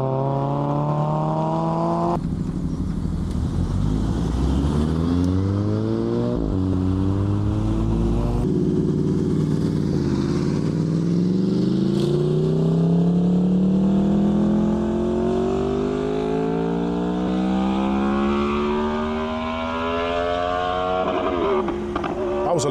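A car's engine revs hard at a car meet outside a farm shop in Llynclys, loud and close, its pitch climbing and dropping in repeated sweeps as it hits the rev limiter.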